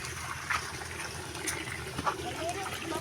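Irrigation water runs steadily into rice paddies, a continuous close wash of flowing water with a few brief splashes and no talk over it.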